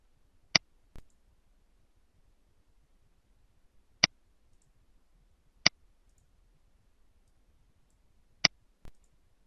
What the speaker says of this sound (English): Click the checkboxes next to each level of Bloom's taxonomy the learner will be using.